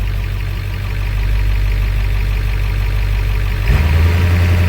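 Van engine running on high idle, a steady low droning hum that rises and settles into a stronger, firmer note near the end, close and alone without speech.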